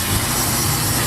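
An outboard boat motor, recently restarted after sitting unused since August, runs steadily in neutral with a continuous low rumbling drone, close and moderately loud.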